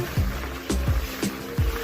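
A motorboat or jet ski speeds across open sea near Pattaya, hull slapping the waves in about four heavy thumps and splashes over a steady engine drone, close and loud.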